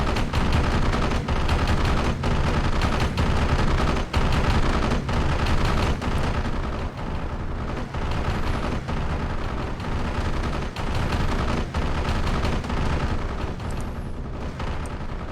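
Mortar rounds and gunfire rattle through a Steel Division II battle, dense, loud bursts of shots and thudding blasts in irregular rapid succession, with no pause for the full stretch.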